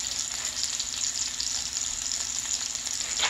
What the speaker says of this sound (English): you want to put the skin side down. Okay, now we got a skillet going.